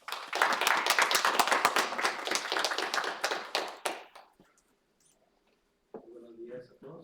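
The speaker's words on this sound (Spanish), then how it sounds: "un aplauso para él, por favor" Audience at an academic conference on social change and education applauds to welcome the speaker, several seconds of close, brisk clapping that fades to near silence, followed by a brief spoken voice.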